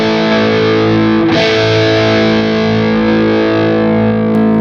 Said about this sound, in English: and the third one, and again there's the reverb and effect.